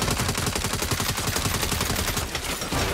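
Turret gunfire in Saints Row hammers out as sustained rapid automatic fire, loud and close, with dense overlapping shots rattling continuously without a break.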